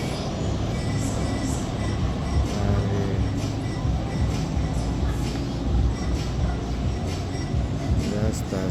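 An MRT train rolls past near a station in Blok M, South Jakarta, at night, a continuous broad rumble with wheel clatter and faint squeal, steady and fairly close, with soft voices underneath.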